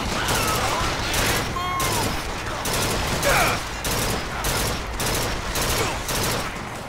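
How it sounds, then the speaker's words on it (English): Machine gun fire in BioShock Infinite, loud repeated bursts of rapid shots in a regular rhythm, each burst separated by short pauses, with clinking mechanical sounds between them. "Alright, machine gun."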